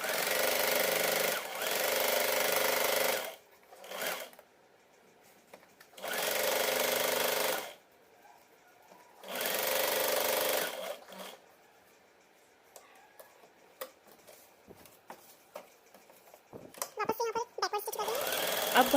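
Domestic sewing machine stitching the seams of a kurti, running in several steady whirring bursts of a few seconds each, separated by quieter pauses with handling sounds of the fabric.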